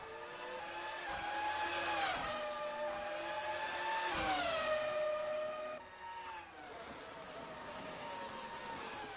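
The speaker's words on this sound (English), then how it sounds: "Those V10s just screaming and ringing through my headphones right now" Several F1 2000 V10 race car engines scream at high revs in the Assetto Corsa racing game, loud and continuous, with rising and falling pitch sweeps as cars pass and a brief dip near the end.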